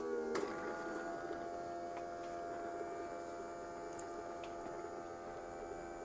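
The internal pump of an Ancel S300 smoke machine runs steadily, a soft continuous electric hum with tonal buzzing, faint and unchanging, with a few small ticks over it.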